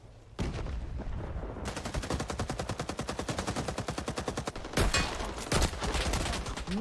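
PPSh submachine gun fire in a video game: long, rapid full-auto bursts crackle loudly and continuously, with a brief pause before the rattling resumes, no voices.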